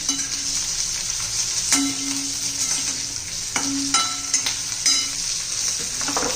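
Green chillies fry in a pan of oil with a constant bright sizzle and hiss, broken by a few stirring scrapes and knocks against the pan, close and steady without any talk.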